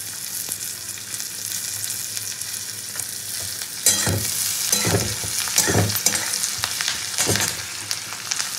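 Cashews and chopped green chili hit hot oil, giving a loud, steady sizzle and frying crackle with occasional stirring scrapes and bursts of spattering throughout.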